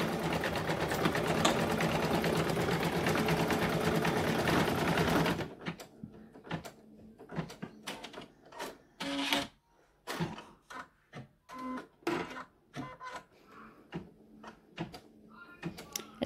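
An embroidery machine stitching a snowball design in the hoop runs in a dense steady whir, then breaks into a rapid, uneven run of mechanical clicks and thumps as it moves between stitches.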